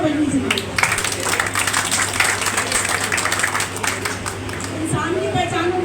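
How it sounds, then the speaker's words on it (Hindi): An audience at a gathering breaks into clapping for a man being praised, the applause moderately loud and steady, with speech-like sounds mixed in throughout. "तो इसलिए अशोक जी की बहुत अच्छी तालियां बजनी चाहिए"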